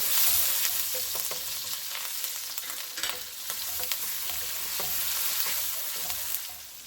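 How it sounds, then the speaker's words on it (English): Fresh ginger paste and minced garlic sizzle loudly in a very hot wok, a steady broadband hiss with light stirring clatter throughout and no talking. "I'm also going to add a half teaspoon of ginger, fresh ginger paste, and 3 cloves of garlic minced right into the wok."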